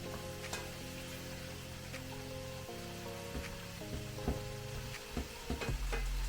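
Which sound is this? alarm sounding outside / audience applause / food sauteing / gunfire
food sauteing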